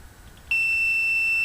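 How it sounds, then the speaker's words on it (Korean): An Arduino buzzer switches on with a button press and sounds one steady, piercing electronic tone that holds unbroken to the end, loud and close, with no talking. "부저 소리가 동시에 들렸죠, 그죠?"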